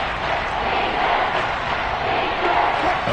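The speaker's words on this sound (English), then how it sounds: "this crowd's going to get even louder" Dense stadium crowd roaring steadily at a Broncos vs Seahawks season-opener football game, a loud, sustained wash of cheering and shouting with swells but no break.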